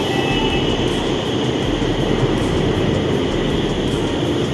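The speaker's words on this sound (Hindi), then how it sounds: "और हमारी मेट्रो आ चुकी है दूसरे प्लेटफॉर्म पे" An Agra Metro train rumbles at a station platform with a loud, continuous mechanical hum and a faint high whine, heard close and steady throughout with no talk.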